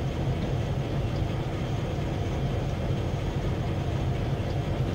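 A model railroad train on a river-side layout runs steadily and continuously, a dense low rumble and clatter of wheels as the tail end rolls slowly past, fairly close, with no talk.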